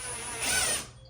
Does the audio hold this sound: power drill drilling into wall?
yes